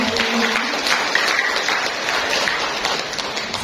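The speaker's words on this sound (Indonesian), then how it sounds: "Beri tepuk tangan dulu dong untuk kita semua." Applause from an audience at a BKKBN stunting-reduction event in East Java, a steady, dense wash of clapping that holds at an even level throughout without clear individual claps.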